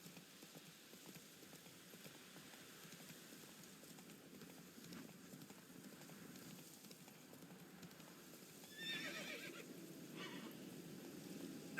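Geralt's horse Roach from The Witcher 3 trots with a soft, steady clip-clop of hooves, then gives a short whinny near the end, heard close and fairly quiet over faint background noise.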